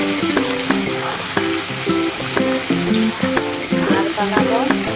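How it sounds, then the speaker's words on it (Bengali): Potatoes and okra fry in a pan with a loud, continuous sizzle, with a repeating metallic clatter of stirring mixed in close up and no voices. "এখানে আলু আর ভেন্ডি ভাজা করছি আমি"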